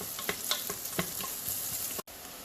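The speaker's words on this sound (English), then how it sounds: "Saute the onions in there for about a couple of minutes or until you see the onions turning a little bit soft" Onions sautéing in a pan for a chicken biryani, a steady close sizzle with scattered crackles and a few soft stirring knocks, then a sudden brief dropout near the end before the frying resumes.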